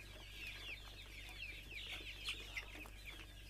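Kadaknath black chickens cluck and chatter softly on a farm, a scatter of short calls and a couple of sharper squawks over a low steady hum, no voices.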